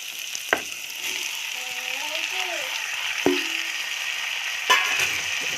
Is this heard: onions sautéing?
yes